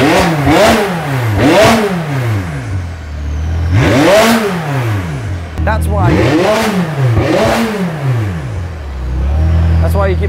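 A V12 sports car at a car show revs repeatedly, its engine swelling up and dropping back in several loud, rising-and-falling sweeps close by, with a brief sharp pop between bursts.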